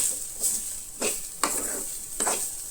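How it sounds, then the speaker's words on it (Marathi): Clams with fresh coriander being stirred while dry frying in a pan, several distinct scraping stirs over a steady soft sizzle, close and alone. "हे आता बरें हलकेशें मिक्स करून घेयात."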